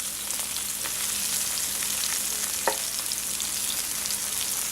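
Mushrooms sautéing in a hot oiled skillet, a constant bright sizzle with a few light scrapes and a single clink of a utensil partway through, heard alone without speech.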